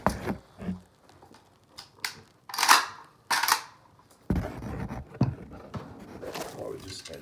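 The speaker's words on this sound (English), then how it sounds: "Let me set you down so I can charge the gun." The charging handle of a PSA AK74 rifle is racked, giving sharp metallic clacks and clicks in scattered bursts close to the microphone. Handling noise fills the gaps between them.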